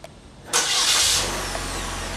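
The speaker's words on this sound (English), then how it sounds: "Let me demonstrate the remote start." A 2008 Chevy Malibu's engine cranks and catches by remote start, roaring briefly before settling into a steady idle nearby.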